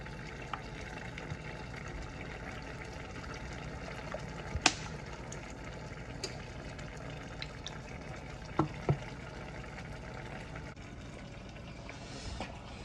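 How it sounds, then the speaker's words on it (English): Cooking grease poured into a pan at a wood-fired outdoor cooking setup for mustard fried chicken, a soft continuous liquid stream lasting throughout, with a few faint clinks and taps around it and no talk. "I'm gonna pour my grease."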